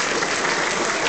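Audience applause at a charity auction, a steady, dense wash of clapping from a crowd, loud and even for a brief moment.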